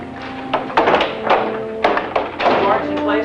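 Heavy auditorium doors swing shut with a series of solid thuds and knocks, one after another at close range, while people talk over them in a full hall.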